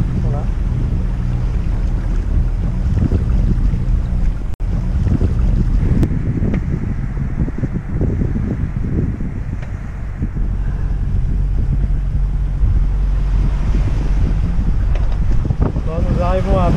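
Steady wind roars across the microphone over the rush of water and hull motion on a sailing boat running before a 15-knot tailwind near Porto Santo Stefano, Italy, loud and continuous throughout.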